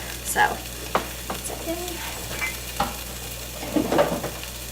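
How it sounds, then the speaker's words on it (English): A knife stirs peppers, milk and cheese for breakfast, giving faint scattered clinks and scrapes over a low background hum, close and sparse. "some cheese, and I'm gonna stir it with a knife"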